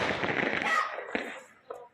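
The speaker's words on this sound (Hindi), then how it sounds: "आतिशबाजी करके" Diwali fireworks and firecrackers at night in Sadhaura, a fading crackling burst followed by a couple of sharp distant pops, fairly faint.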